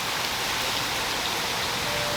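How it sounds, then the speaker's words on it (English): Heavy rain pours down in a steady, dense hiss of drops hitting surfaces, constant and loud throughout, with no voices. "Like it's downpouring."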